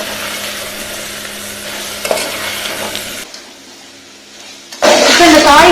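Carrot, beans and potato stir-frying in oil in a pan, giving a steady close sizzle with stirring scrapes, a quieter gap, then a loud fresh burst of frying.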